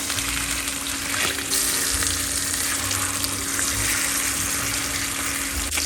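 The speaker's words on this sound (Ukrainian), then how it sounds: "І також підсмажую з другого боку до ось такої золотавої скоринки." Salmon fillets, turned to brown the second side to a golden crust, sizzle steadily in hot oil in a pan, a continuous close crackling hiss with no talk.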